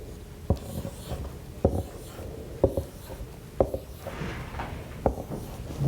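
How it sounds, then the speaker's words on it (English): A pen or marker drawing a bass clef on a music staff, heard as a series of soft scratchy strokes with sharp taps at regular intervals, close up, with no voice. "I'm going to draw a bass clef."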